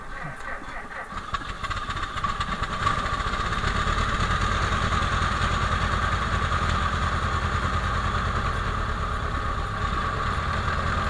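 A Ford Model T engine idles steadily and loudly, a rough, fast chugging rhythm that holds constant throughout.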